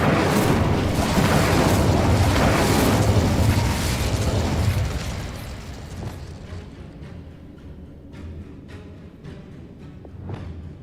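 Incendio fire spell in the video game Hogwarts Legacy, a loud roaring fiery blast lasting several seconds, then fading into a low rumble with scattered crackles and small pops.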